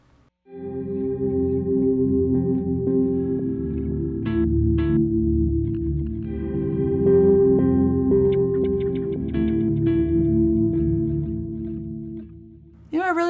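Sustained, effected guitar tones swell and shimmer with heavy modulation and reverb, broken by scattered glitchy stutters and a sharp warble at the end.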